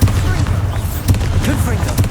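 Bombarda spell explosions in Hogwarts Legacy: two short booming bursts over a dense, rumbling game soundscape.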